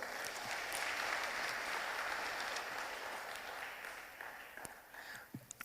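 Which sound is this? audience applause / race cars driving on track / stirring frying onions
audience applause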